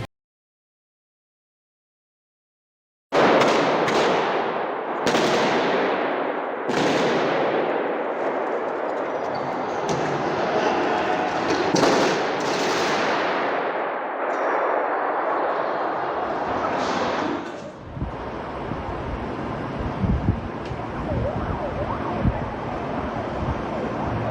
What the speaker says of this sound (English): Стреляют из автомата. Стреляют по толпе.